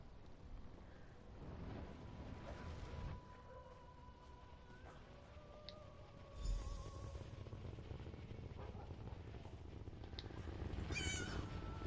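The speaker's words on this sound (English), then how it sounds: "Ah, it's a cat!" A cat meows in the Elder Scrolls Online game: several close, clear mewing calls in the first seconds and again near the end, over steady ambient game background.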